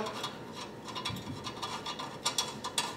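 Faint ratcheting and scraping clicks from a safety valve being threaded by hand into a Wilesco D20 model steam engine, a few light metallic rubs and turns close by with no talk.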